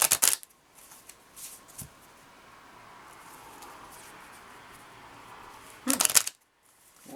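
A deck of shamanic healing cards is shuffled up close, with a loud burst of riffling at the start and another near the end, separated by a soft, steady rustle.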